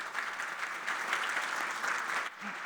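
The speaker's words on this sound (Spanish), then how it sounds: "Un aplauso también para él, por favor." A conference audience in a hall gives steady applause, moderately loud and continuous, thinning slightly near the end.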